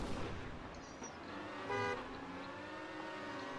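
A short car horn toot sounds once in the Trackmania racing game, a brief tonal blast amid quiet background game audio.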